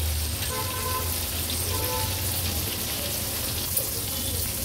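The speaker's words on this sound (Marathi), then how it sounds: "ही मागची बाजू पण सेम मगाचसारखीच आपण तळून घेणार आहोत" Karli fish pieces shallow frying in a pan over a low-to-medium flame, a steady close crackling sizzle running evenly throughout with no talk.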